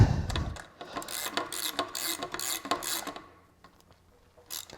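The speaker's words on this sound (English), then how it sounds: "I'm gonna go ahead and just tighten these pinch bolts down on this side" Wrench tightening the front wheel pinch bolts on a dirt bike, a close sequence of metallic clicks, ratcheting and rattly scrapes that trails off into near quiet before a final tap.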